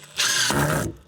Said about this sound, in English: I'm trying to get the last drills in.